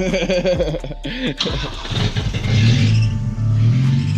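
Chrysler 300 with a RIPP supercharged 3.6L engine cranking and catching, then settling into a loud, close, rumbling rev and idle.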